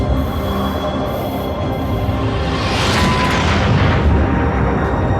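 A powerful shot in the Galactik Football cartoon, a loud sustained roaring whoosh that swells and rushes louder midway, filling the whole clip with dense rumbling noise.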